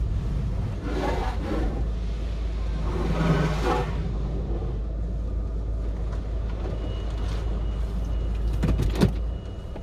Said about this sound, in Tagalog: Papalinis po kami ng kotse.